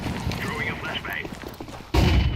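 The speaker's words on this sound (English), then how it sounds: "Throwing a flashbang." A flashbang grenade goes off in Counter-Strike 2 with a single abrupt, loud blast that rings on briefly near the end, after a stretch of quieter background game noise.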